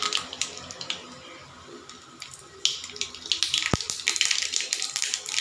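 Mustard seeds sizzle and crackle in hot mustard oil for aloo dum, a steady bright frying hiss with scattered small pops and one sharp snap, close and fairly loud throughout.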